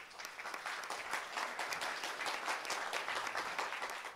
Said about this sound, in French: Est-ce qu'on peut applaudir Colline ?